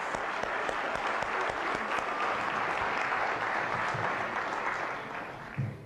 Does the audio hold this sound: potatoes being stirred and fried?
no